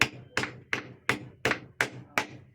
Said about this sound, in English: Hold it like that while you nail it in now.